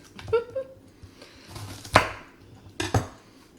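A knife chops an onion on a cutting board, with a few sharp, separate knife strikes close by and faint kitchen sounds between them.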